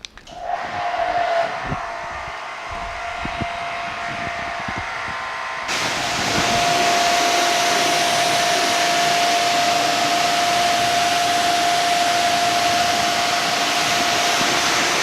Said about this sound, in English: I'm about to turn this Sunjoe SPX 9004 on.